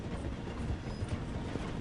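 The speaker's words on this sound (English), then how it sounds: "The train is slowing down to go through the station." A train in the western game Red Dead Redemption rolls slowly through a station, giving a steady, dense rumble with faint rhythmic clatter from the wheels and no voices.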